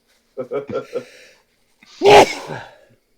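A single sharp sneeze follows a few quick short voice bursts, close and fairly loud, with a breathy trailing tail.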